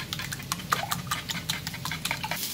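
Bacon cooking in a pan while being stirred, a quiet soft sizzle broken by a quick run of close utensil scrapes and taps against the pan.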